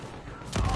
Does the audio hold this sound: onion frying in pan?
no